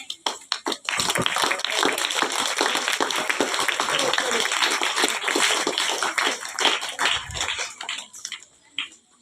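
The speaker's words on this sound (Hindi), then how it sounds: "इनके लिए एक बार जोरदार तालियां हो जाए।" Audience clapping at a school Hindi Diwas celebration, a dense patter of many hands sustained for several seconds before tapering off, with voices mixed in underneath.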